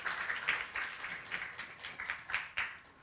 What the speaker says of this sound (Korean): 그냥 박수 한번 칠까요?